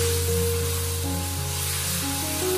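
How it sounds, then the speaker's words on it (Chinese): Eggs stir-fried with a poured-in sauce in a hot wok give a steady, close sizzle and hiss that holds at even loudness throughout, with faint tonal hum underneath and no talking. "把我们调好的料汁也加进来，快速的将它翻炒均匀"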